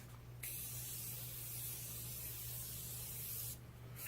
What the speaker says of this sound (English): I'm going to set my face again with this Morphe Continuous Setting Mist, which I love.